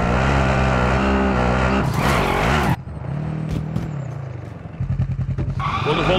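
A car engine in Call of Duty: Modern Warfare, a loud droning roar with rising revs and a sharp whoosh, then a lower rumbling idle and chugging acceleration, close up.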